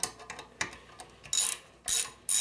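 Tightly secured Torx screws are loosened with a Craftsman Evolv Torx bit socket on a ratchet, giving soft irregular ticks followed by three short, sharp bursts of close ratcheting clicks.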